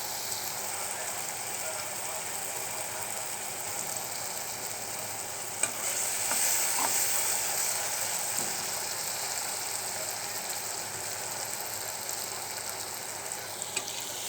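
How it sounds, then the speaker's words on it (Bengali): Spice paste fries softly in a pan for a kechki fish charchari, a faint continuous sizzle with occasional stirring scrapes and clicks, heard quietly at close range. "মশলাটা আর একটু কষুক, তারপর মাছগুলো দিয়ে দেবো"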